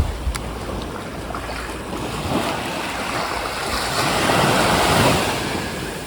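Ocean waves wash and surge continuously near a castle shoreline, a loud broadband roar that swells toward the end, with some wind buffeting the microphone and no talking.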